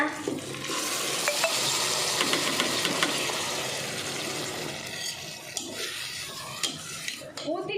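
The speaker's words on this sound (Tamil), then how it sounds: "இது நல்லா ஃப்ரை ஆகணும் புதினா கொத்தமல்லி வாசம் போகணும்" A green paste of ground coriander, mint, ginger, garlic and green chili fries in a pan, making a steady close sizzle with occasional stirring clinks and scrapes.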